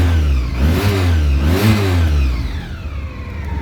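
A 2001 Honda ST 1100 Pan-European motorcycle engine revs hard twice in quick succession, rising and falling loudly, then settles back toward a steady idle.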